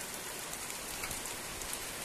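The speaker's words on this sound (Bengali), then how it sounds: "দেখো কত পরিমাণে বৃষ্টি পড়ছে।" Heavy rain pours steadily in a village, a dense, even patter of drops on surfaces with no let-up, heard alone.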